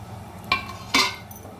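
A frying pan is set down on a home stove to fry a tempering of oil and dried red chillies for an ivy gourd curry, giving two sharp metallic clanks about half a second apart, fairly close.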